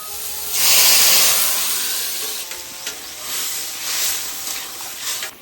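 Water poured into a hot pan of sour fish curry bursts into a loud, steady steam hiss that swells at first, then settles into a sputtering sizzle with a few sharp spits.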